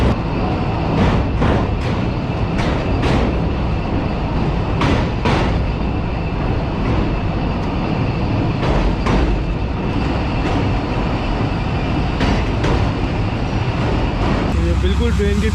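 A train pulling in behind someone outdoors by the tracks, a continuous loud rumble with rhythmic clacks of wheels over rail joints, with someone talking over it.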